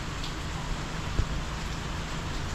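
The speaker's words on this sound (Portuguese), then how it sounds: "eu tô vendo a chuva caindo aqui" Steady rain falls outdoors in Japan, a continuous soft hiss of drops on surfaces with a faint low rumble beneath, with no voices.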